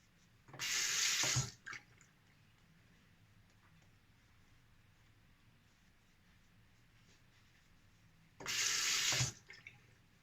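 A shaving brush is rinsed under a running tap in two separate bursts of loud rushing water about a second long, separated by a stretch of quiet room tone.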